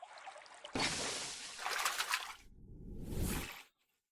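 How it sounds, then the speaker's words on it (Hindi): Water from a spring trickles and splashes in bursts, a loud broadband rush that swells twice and then cuts off abruptly, close and without talk. "सूखे में भी मुझे पानी का सोता मिल गया।"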